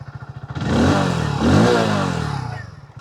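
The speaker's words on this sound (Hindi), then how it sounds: "आइडियल कंडीशन पर इंजन साउंड सुनो, एग्जॉस्ट नोट सुनो," Hero Splendor motorcycle engine and exhaust, in ideal condition, a steady single-cylinder idle that rises into a couple of short, close throttle blips before settling back to a pulsing idle, with no talking.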